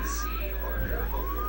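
A siren effect from the Sonic the Hedgehog video game: a pair of wavering electronic tones gliding up and down over a steady low hum, with people talking faintly underneath.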